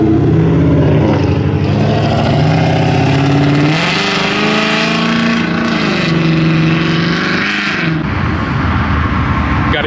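A group of Ford Mustangs led by a GT350 driving out of a car meet, loud close engine notes with harmonic drones that rise as the cars rev and pull away, then settle into a rumble.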